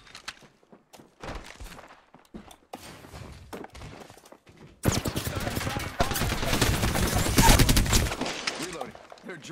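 Gunfire in the Apex Legends battle royale game: sparse shots at first, then a loud sustained burst of rapid automatic fire and impacts dominating the second half, with game voice callouts mixed in.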